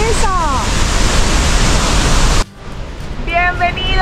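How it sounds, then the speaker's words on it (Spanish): The Salto de Candela, one of Colombia's tallest waterfalls, in Boyacá, roars as a loud, dense, continuous rush of falling water that cuts off abruptly, followed by quieter background with a voice speaking. "Bienvenidos a la tercera cascada más alta de Colombia, el Salto de Candela."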